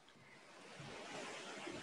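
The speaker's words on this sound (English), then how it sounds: "We have the sound of the waterfall here as well." A waterfall beside a mountain trail near a crimson bridge in Yamagata rushes in a steady, broadband roar, close and continuous with no voices over it.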